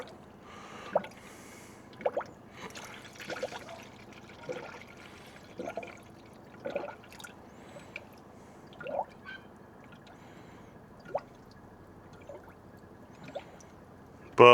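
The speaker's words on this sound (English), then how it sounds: "keep topping it up with water. Till it's done, really." Water is topped up into a car radiator during a VN SS build, with scattered gurgles, drips and splashes separated by quiet gaps, close and fairly faint, ending with a louder knock.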